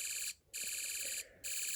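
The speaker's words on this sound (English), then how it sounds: "a 3-snap wire between points X and Y, here, you have a machine gun sound" A Snap Circuits alarm IC set up for a machine-gun effect gives a harsh, buzzy electronic tone in rapid pulsing bursts, broken by two short gaps, close and loud with no other sound.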